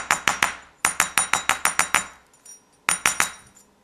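Wire earrings are hammered flat on a hard block in quick bursts of sharp metallic taps, several rapid runs of ringing strikes with short pauses between, close and loud, no talking.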